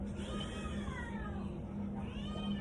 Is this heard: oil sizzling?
no